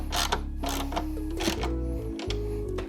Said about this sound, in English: So using the 1/2 inch socket now to tighten down the bigger bolt where your wiring system would go through.